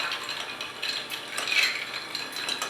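A spoon stirs an elderflower rum cocktail with mint in a glass, giving light, irregular clinks and scraping taps close to the microphone.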